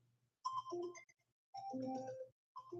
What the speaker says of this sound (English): Oh, my phone, that's my alarm.